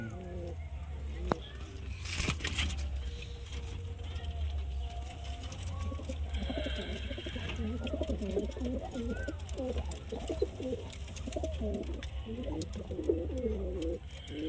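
Pigeons coo in soft, repeated bursts, likely long-flight racing birds, amid a steady low background hum, with a brief crackle early on; people talk faintly nearby.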